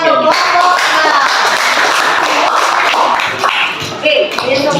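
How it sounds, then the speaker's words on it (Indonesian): A classroom of students clapping for a group, a dense busy patter of hands mixed with voices and shuffling, loud and close throughout. "Oke, tepuk tangan untuk kelompok"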